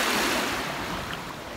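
Ocean waves washing onto a rocky sand beach, a steady close broadband rush of surf with no talking.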